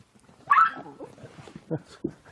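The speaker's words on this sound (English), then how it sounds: "A small dog has just arrived." A small dog gives a sharp yelp followed by a few soft whimpers and yips, close by in a quiet setting.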